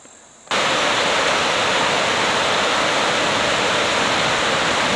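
Water rushing down a creek beside the Kokoda Track: a steady, loud broadband roar of flowing water that cuts in abruptly after a brief quiet start and continues unbroken, close by with no voices.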